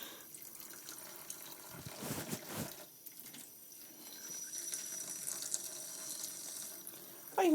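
Water from a tap runs at moderate volume while a dog named Bandit gets a bath, a steady splashing flow with a brief louder gush partway through and no voices.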